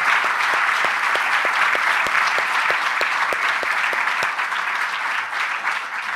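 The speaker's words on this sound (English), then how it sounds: "Let's give these two a very big applause for their thoughts tonight." Audience applause after an evening lecture on women and sport leadership, a full, steady roar of many hands clapping that holds evenly and fades slightly at the end.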